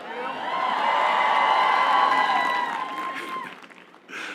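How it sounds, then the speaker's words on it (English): A university commencement audience at WashU breaks into loud, sustained applause and cheering that swells, holds steady, then trails off near the end. "Applause in the front."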